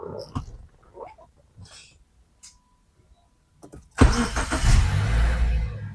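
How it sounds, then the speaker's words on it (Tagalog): A Subaru car engine cranks and catches after a few quiet rustles and clicks, then settles into a loud, steady idle rumble close by. "start po natin yung engine nito"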